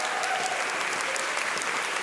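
Audience applause for a choir at a recital, a dense, steady wash of clapping from a crowd, continuous and fairly close with no talk over it.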